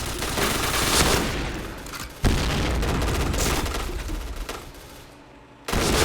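Dense, sustained video game gunfire from an M1887 shotgun in Point Blank, with rapid bursts and heavy booms, loud throughout, briefly cutting out near the end before resuming.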